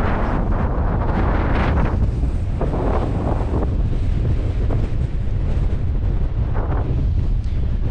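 Strong wind blasts across an exposed Welsh mountainside at a solo wild camp, roaring loudly and continuously into the microphone with gusty surges throughout and no voices.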